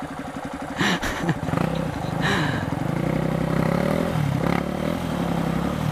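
A dirt bike engine runs on a forest trail in Mata do Jacaré, revving with a steady, rumbling drone and some rattling clatter, close by and continuous throughout.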